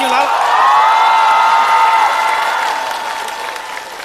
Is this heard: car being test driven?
no